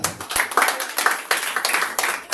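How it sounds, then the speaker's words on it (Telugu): A church congregation clapping hands together in a steady, rapid rhythm, loud and close, with the claps forming repeated bursts that carry on throughout. "చప్పట్లు కొట్టాలి."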